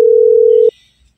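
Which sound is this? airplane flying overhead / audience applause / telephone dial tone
telephone dial tone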